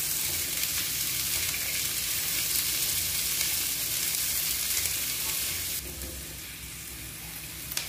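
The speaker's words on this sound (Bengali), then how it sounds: "সব মশলাগুলো আমি ভালো করে ভেজে নিচ্ছি।" Spices, green peas and chopped green capsicum fry for fried rice, a steady close sizzle with occasional stirring scrapes, dropping slightly quieter near the end.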